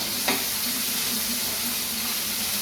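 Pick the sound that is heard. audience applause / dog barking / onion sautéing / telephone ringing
onion sautéing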